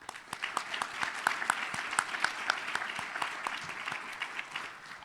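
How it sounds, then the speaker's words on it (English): Moderate applause from an awards ceremony audience honoring Huddle, a crowd of steady clapping with individual claps audible, fairly even in level throughout. "Let's give a big round of applause to Huddle."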